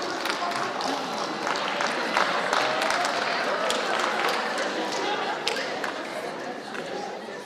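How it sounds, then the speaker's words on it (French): A French audience at a geosciences round-table applauds itself after giving correct answers, steady clapping from many hands filling the room with some crowd murmur mixed in throughout. "Oui, vous pouvez vous applaudir"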